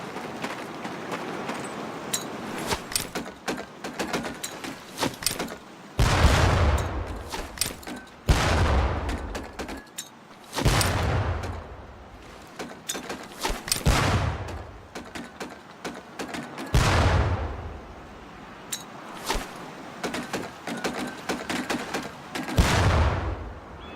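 Training grenades burst one after another in the Medal of Honor Pacific Assault video game, roughly eight separate booms with low rumbling tails spread through the span, mixed with sharper cracks and quieter clatter between blasts, no talking.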